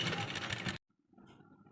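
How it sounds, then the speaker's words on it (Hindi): A sewing machine runs in a steady, dense whir while stitching a half-collar kurti, then stops abruptly, leaving a quiet stretch with faint handling noises. "ऐसे हमें बराबर बराबर में सिलाई मारते चले जाएंगे"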